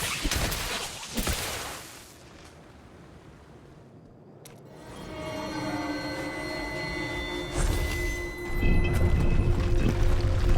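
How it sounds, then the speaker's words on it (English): Water rushing out of a pool in a fantasy action game's hidden location, a loud pouring surge that fades to a low murmur, then swells again with metallic grinding and a rising roar. "Water in the nearby pool is rushing away."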